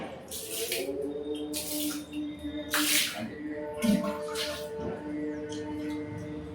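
Water is poured over a deity idol during a Shiva worship ritual, heard as several splashing, gushing bursts and dripping with faint background murmur.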